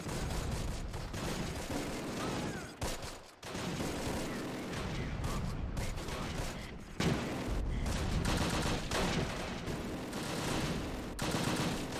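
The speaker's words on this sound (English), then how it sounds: "Despite the heavy weapons fire, Steele and the bazooka team managed to get a shot off" Dense, continuous gunfire and heavy weapons fire from the World War II strategy game Close Combat: The Longest Day, with rapid bursts and explosions layered into a loud, unbroken battle din.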